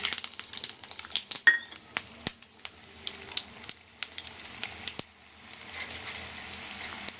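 Mustard seeds, chana dal and urad dal fry in hot oil, a soft steady sizzle with sharp scattered pops and crackles close by, no talking.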